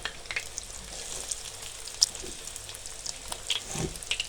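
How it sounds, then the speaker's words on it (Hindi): Egg bread donuts frying in hot oil over high heat, a steady soft sizzle with scattered crackles and pops, close and fairly quiet, no talking. "ऑयल हमारा गर्म हो चुका है। अब हम इसमें फ्राई करेंगे।"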